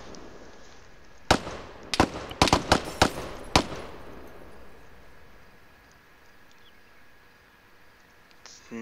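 Gunfire in the tactical video game Operation Black Jacket: about seven sharp, crisp shots crack out in a quick irregular burst, then fade into quiet ambient game background.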